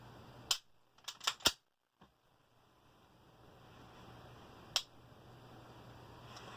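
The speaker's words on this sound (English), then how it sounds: "So here's the current trigger pull." Trigger of a Sig Sauer P229 pistol being pulled and reset, producing a cluster of sharp, close metallic clicks early on, then a lone click after a pause, over quiet room hiss.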